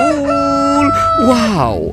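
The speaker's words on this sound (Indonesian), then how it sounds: "ini ada ayam berkokok" A rooster crows one loud, close, drawn-out cock-a-doodle-doo that rises and then falls, while a voice exclaims briefly over it.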